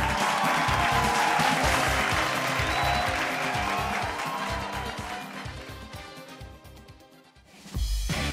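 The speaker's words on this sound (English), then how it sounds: "One last round of applause." An audience applauds the top 10 at the Miss World Kenya 2012 pageant finale, a steady wash of clapping over loud music that fades toward the end before a brief burst returns.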